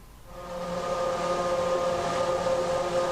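Formula One era race car engine in Assetto Corsa swelling up into a loud, steady, high-pitched wail that holds a sustained tone, close and dominant, no talk.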